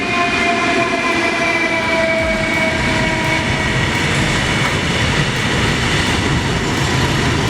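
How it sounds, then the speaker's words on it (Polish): A Soviet-built electric locomotive train rolls past steadily, with a continuous loud rumble, a faint high whine, and light rhythmic clatter of wheels on rails. "Taka radziecka lokomotywa, która po prostu została zelektryfikowana."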